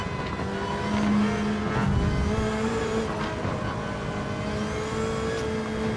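Mazda race car in Gran Turismo 7 holds a steady, loud engine drone with shifting tonal pitch for the whole stretch, with a hint of tire squeal and no talk over it.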